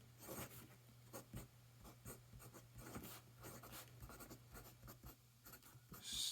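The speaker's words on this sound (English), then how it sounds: "we'll just do a super quick writing sample" A Conklin Stylograph fountain pen with a fine nib writes a short sample on paper. The soft scratching strokes are faint and close, coming in irregular short bursts with no talking.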